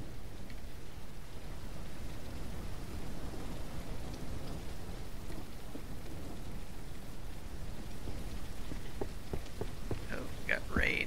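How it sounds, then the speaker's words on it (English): Rain falls in the ranch-building game Ranch Simulator, a dense, steady hiss of drops on surfaces with a few brighter pattering hits near the end, constant and fairly loud throughout. "Oh, we got rain."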